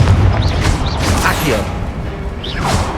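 Confringo fire spell blasts in the game Hogwarts Legacy, loud booming bursts with whooshing swishes and rumbling, layered over game sound and a voice.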